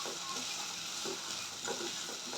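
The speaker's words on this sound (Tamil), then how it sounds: "ஒரு 2 நிமிஷம் மட்டும் வதக்கினா போதும்." Plantain slices sautéing in plenty of oil in a pan, a continuous soft sizzle with faint stirring scrapes underneath, steady and fairly quiet.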